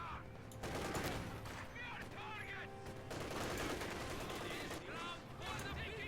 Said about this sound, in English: Take a few shots at these conscripts.